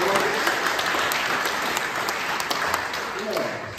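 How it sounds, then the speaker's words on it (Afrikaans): Congregation at a baptism applauding, a full, continuous round of clapping from many hands with some voices mixed in, fairly loud and close throughout. "Ek dink ons kan vir hulle 'n hande klap gee"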